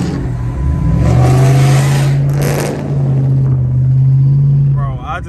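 A Chrysler SRT accelerating hard, a loud, close engine roar holding a steady low tone for several seconds before cutting off, with a voice talking over it inside the car.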